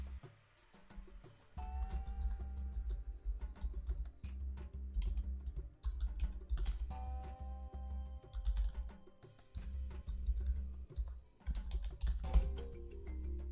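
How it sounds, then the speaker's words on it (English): Computer keyboard typing, steady clusters of clicks and key taps at close range while financial figures are entered, continuing for the whole span with brief pauses and no talk. "So let us type in."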